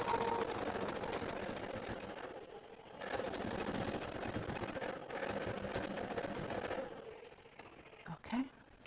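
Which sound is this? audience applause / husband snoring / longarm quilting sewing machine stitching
longarm quilting sewing machine stitching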